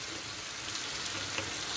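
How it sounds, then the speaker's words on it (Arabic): Lamb and onions are stirred in a tagine over steady, close frying sizzle, with a constant bright hiss and faint scraping throughout and no voices. "نحركو بحال شي هكا. ديما ندفعو البصله من تحت من اللحم في الطاجين"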